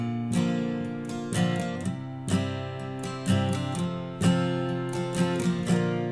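Guitar strummed at an unhurried pace playing a song in standard tuning, chords ringing out in a steady, relaxed rhythm with clear accents on each downstroke.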